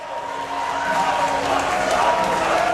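Crowd at a UKPW professional wrestling match in the historic city of Canterbury, a steady roar of cheering and noise building slightly louder across the moment, with a commentator's voice mixed in underneath.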